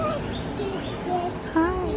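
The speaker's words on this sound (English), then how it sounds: "Pretty birds, pretty birds. Those are pretty birds." Pet birds call at Gilcrease Nature Sanctuary in Las Vegas, with several short, tonal chirps and coos over a constant background murmur.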